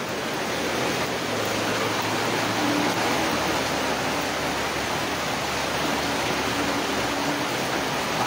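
Heavy rain pours steadily during a flood at a home in the Philippines, a dense continuous hiss and rush with no letup, fairly loud and unbroken throughout.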